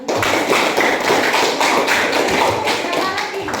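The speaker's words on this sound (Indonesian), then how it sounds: "kita beri tepuk tangan untuk" A classroom of students claps together for a classmate, a dense, steady patter of many hands running without a break from start to finish.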